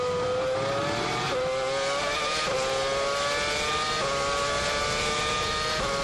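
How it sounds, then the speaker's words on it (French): Formula 1 car at the 2007 Brazilian Grand Prix, running again after a problem; a loud, continuous engine note rises steadily through repeated gear changes, droning close and alone for several seconds. "Il repart, écoutez son moteur."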